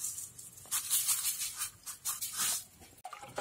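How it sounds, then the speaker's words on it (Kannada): Sugar is stirred into tender coconut juice in a glass. The result is a steady, near run of soft scraping and swishing strokes that comes in short bursts with no voices. "ಸಕ್ಕರೆ ಚೆನ್ನಾಗಿ ಮಿಕ್ಸ್ ಮಾಡಬೇಕೀಗ."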